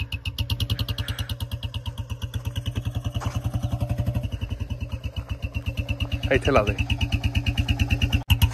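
Royal Enfield Bullet Standard BS7 2024 motorcycle fitted with a short bottle silencer, idling with a loud, steady thumping beat throughout, a brief rev rise near the end, and a person talking over it.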